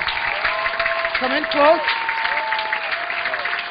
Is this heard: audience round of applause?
yes